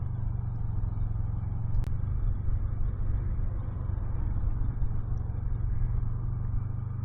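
Heavy road traffic rumbles steadily around a rider commuting to work, a continuous low engine drone from nearby vehicles with no clear breaks or voices.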